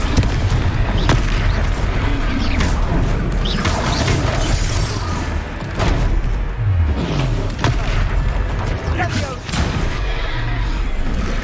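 A Confringo fire spell explodes during a battle in the video game Hogwarts Legacy: loud booming blasts and crashes over dense, continuous game noise, with a voice shouting the spell name.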